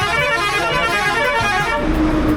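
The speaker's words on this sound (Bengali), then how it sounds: "প্রচুর গাড়ির আওয়াজ, হর্নের" Vehicle horns blare on a highway, heard from inside a moving bus, with a loud sustained honk and a second horn joining near the end over road and engine rumble.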